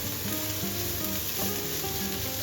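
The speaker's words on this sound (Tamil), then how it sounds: "இப்போ கோஸும் வதங்கிட்டு அடுத்தது கேப்சிகம் போடுறேன்" Shredded cabbage and capsicum sauté in a hot pan with a steady close sizzle and faint stirring scrapes, no voices.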